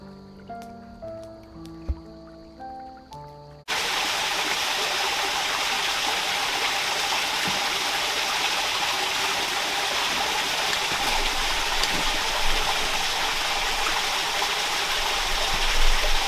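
Rainforest stream rushing over a rocky streambed, a loud, dense and continuous wash of water that cuts in abruptly after a few seconds of gentle melodic tones.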